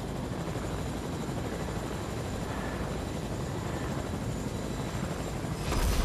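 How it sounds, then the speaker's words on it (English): A helicopter in a video game, a loud continuous rotor roar with a dense steady wash of noise throughout, close and alone, swelling slightly at the end. "Come on board the helicopter."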